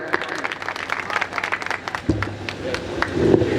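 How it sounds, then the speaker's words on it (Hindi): An audience at a Hindi poetry gathering claps for a poet, a short burst of applause that fades as a voice begins under it near the end. "भाई मनीष बैसवार जी के लिए जोरदार तालियां बजाएं।"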